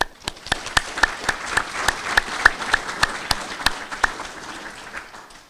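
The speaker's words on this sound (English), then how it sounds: "give a round of applause for everybody that's been part of this initiative" Applause at a STEM collaborative event: a small audience claps in a fairly sparse pattern of distinct, sharp claps at moderate distance, staying steady for several seconds.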